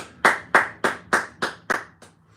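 A congregation at a Sabbath service claps in unison, seven sharp hand claps in an even rhythm about a third of a second apart. The last clap is softer, and the claps ring in a roomy space with no talk.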